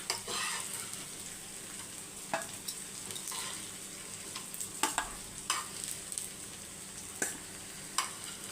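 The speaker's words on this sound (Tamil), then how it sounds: "கருணக்கிழங்கு ரோஸ்ட் ஆயிடுச்சு தெரியுதா" Chunks of elephant foot yam roast in a pan with a steady, close sizzle, broken by a series of sharp scraping stirs spaced a second or so apart.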